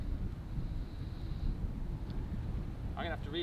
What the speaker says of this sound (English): Tricky, that wind off the left like that.